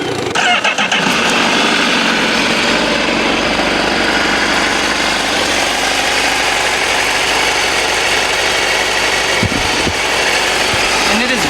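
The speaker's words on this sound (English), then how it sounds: "And from here, you can start the bike." A 2025 Honda CBR 1000RR-R Fireblade motorcycle starts with a brief crank and settles into a steady, close idle, a loud continuous engine rumble throughout.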